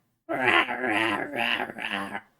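A toy dog with a harsh electronic bark, damaged from being dropped down the stairs, lets out four distorted, growling barks in quick succession, loud and close with no talk.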